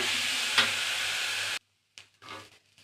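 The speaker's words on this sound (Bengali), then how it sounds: "এবার ভালো করে ভেজে নেবো চাল ডালটা" Rice and lentils with cinnamon sizzling steadily in a hot pan, a loud continuous fry for about a second and a half, then silence broken by a few quieter bursts of sizzle as the mixture is stirred.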